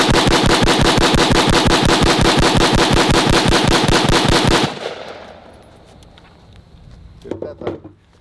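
An AR-15 rifle fires a rapid string of loud, evenly spaced shots, roughly a dozen in quick succession, then stops abruptly and leaves faint background noise with a brief voice near the end.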